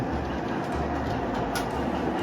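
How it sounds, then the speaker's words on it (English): A model train, an Army train, runs along a home layout, giving a steady continuous rumble with faint rail clatter throughout, close and moderately loud with no talk over it. "the Army train is right there, which will just now go into this camera"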